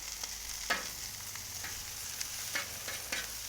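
Peppers, onions and broccolini cook on a griddle with a soft, even sizzle close by, broken by several spatula taps and scrapes spaced through the clip.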